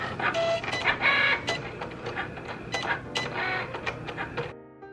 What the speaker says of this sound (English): you can go ahead and press your Cricut button, and it is going to create your design